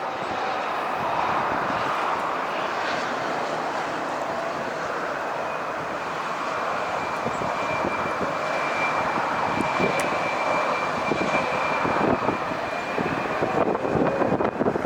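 A CRJ regional jet lands at LAX during reverse operations, its steady engine roar broad and continuous as it passes fairly close, with a sustained whine running throughout and no talk.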